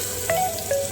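Potatoes drop into hot tempering oil for khichdi, giving a brief, soft sizzle with a couple of faint pops, lasting under a second.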